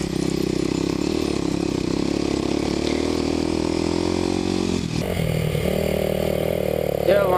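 Kawasaki KLX250SF supermoto on street tires climbing an offroad hill during an ATV poker run, engine droning loud and steady close by, then shifting tone and revving near the end.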